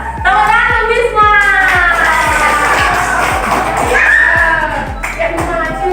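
Schoolchildren in a classroom clapping together in a steady rhythm for a classmate, with loud, close group shouting and cheering over the clapping.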